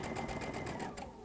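Sewing machine stitching a faux border quilt corner, a rapid even mechanical whir with rhythmic needle pulses, close and fairly quiet, ending in a brief slowdown.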